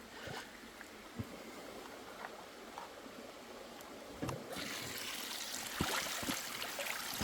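Water jets spraying from a three-jet gold prospecting sluice setup make a faint, steady hiss and trickle that grows noticeably louder and brighter after a few seconds, punctuated by light knocks.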